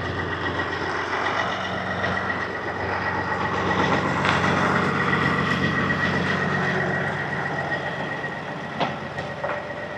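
A heavy truck rolls out of a shop yard, its diesel engine droning and rumbling steadily while a reversing beeper tone persists nearby, with a few sharp clanks near the end.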